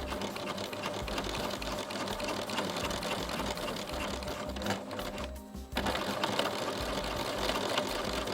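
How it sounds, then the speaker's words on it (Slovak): Sewing machine stitching down a waistband with a short stitch length, a steady close whirring run that pauses briefly near the middle before resuming. "Nakoniec ešte prešiť treba ten opasec, ktorý je strojom."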